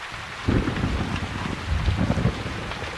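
Steady rain pours with rumbling thunder in a stormy night scene from a French audiobook of Silas Marner; dense, continuous downpour with swelling low rolls of thunder, no voice over it.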